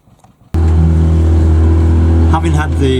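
Canal boat engine, newly serviced, running on the Ashby Canal: a steady, loud low diesel-type drone that starts abruptly and holds constant, with a brief change in tone near the end.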